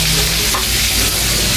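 Food fries in a pan with a loud, continuous close-up sizzle and crackle that holds steady the whole time.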